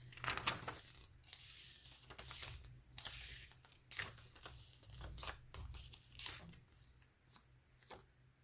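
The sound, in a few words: paper crinkling while flipping through a journal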